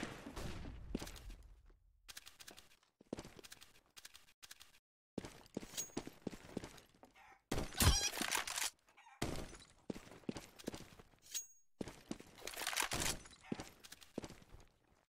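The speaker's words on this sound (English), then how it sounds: "Throwing flashbang." Counter-Strike gameplay with a flashbang grenade thrown amid bursts of in-game action, sharp clinks and impacts, and a loud bright pop near the middle, between short gaps of silence.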